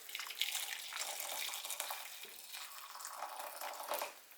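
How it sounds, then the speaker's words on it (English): Boiling water pours steadily into a jug, a soft continuous splashing and gurgling stream that runs for several seconds, close but quiet. "Add half a pint of boiling water."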